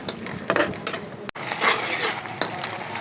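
Coarsely crushed garlic and green chilies being sautéed in a pan, with close metallic scrapes and clinks of a utensil stirring over a faint sizzle, alone with no talking.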